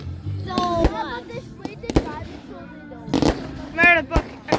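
Fireworks go off in a string of sharp cracks and pops, some close and loud, spaced irregularly, with a whistling rise among them and people's voices talking and exclaiming throughout.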